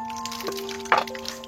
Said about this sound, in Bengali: প্রথমবার আমি ধুয়ে এতে তুলে নিচ্ছি, আর একবার ধোবো।